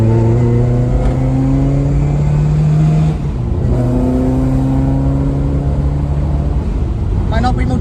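A Ford MK2 Escort 1600 Sport rally car with a 2.0 BDG engine making over 250bhp revs hard, its pitch climbing, dropping briefly, then rising again, loud and close.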